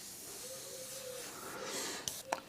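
Airbrush spraying transparent paint onto paper, a soft steady hiss of air running throughout at low level, with a couple of brief sharper bursts near the end.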